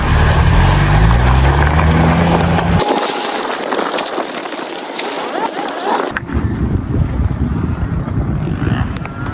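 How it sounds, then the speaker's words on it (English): A Suzuki Samurai off-roading through mud and dirt in LaGrange, with a loud engine and heavy rumble, strong wind buffeting the microphone, and a sudden change in the noise partway through. "we're driving the Samurai through some mud and dirt in LaGrange"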